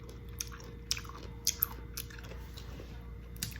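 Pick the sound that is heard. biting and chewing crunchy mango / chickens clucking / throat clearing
biting and chewing crunchy mango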